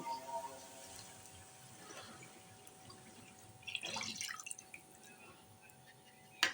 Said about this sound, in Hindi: चूल्हे की आंच खोलने के बाद इसके अंदर मैं दूध शामिल करूँगी